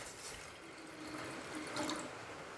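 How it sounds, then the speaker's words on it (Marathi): A glass of water poured into a cooking pot, a soft brief splashing pour heard faintly and close, with no talk. "टोपामध्ये ना मी 1 ग्लास पाणी टाकणार आहे."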